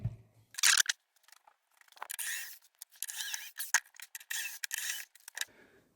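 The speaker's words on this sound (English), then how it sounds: "let's get this back panel off and have a nosy at it" Back panel of a PRS HDRX20 guitar amplifier being removed, with short scraping, rubbing and clicking handling sounds in irregular bursts, close and fairly quiet, with no talking.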